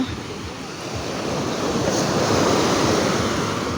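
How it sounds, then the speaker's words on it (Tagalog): Crashing surf builds into a heavy, sustained roar of breaking waves, with gusty wind noise over the microphone. "Parang nalaki ata ang alon."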